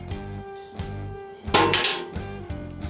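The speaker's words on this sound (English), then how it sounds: "That log caught so beautiful, so quick. Close the door here" The door of a wood-fired smoker is worked, with a loud metallic clank and rattle of it shutting standing out against a background of regular low mechanical thumps.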